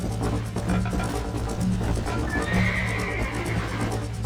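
A horse in Red Dead Redemption on PC trots with clip-clop hooves and gives a whinny partway through, close and clear over game ambience.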